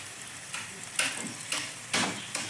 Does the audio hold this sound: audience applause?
no